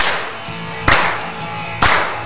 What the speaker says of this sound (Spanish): Esas pinches palmas de la raza